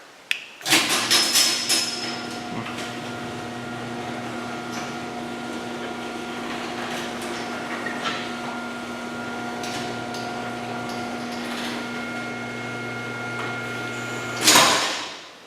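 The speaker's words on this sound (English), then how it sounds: "we shall close the door" A Chamberlain LiftMaster opener drives a Clopay garage door closed. After a clunk at the start, the motor hums steadily for about thirteen seconds, then the door lands with a louder thump and rattle at the end.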